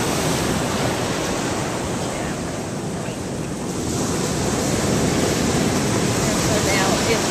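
Ocean waves wash onto beach grass on St. George Island, Florida, a constant broad rushing surf mixed with wind buffeting the microphone, with no clear individual wave breaks.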